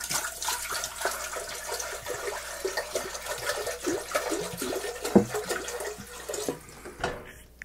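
Water pours into a pot while mixing a pineapple orange melomel with honey, giving a steady gushing, splashing stream that runs the whole time at moderate loudness, with a few clunks near the end and no talking.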